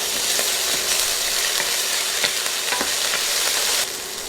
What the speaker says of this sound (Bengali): বাটা মশলাগুলো 30 সেকেন্ড ভেজে নিব।